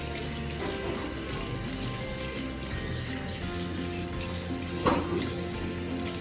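Tap water runs steadily into a kitchen sink as it is rinsed out, a continuous close splashing wash with a brief louder splash near the end and no talking.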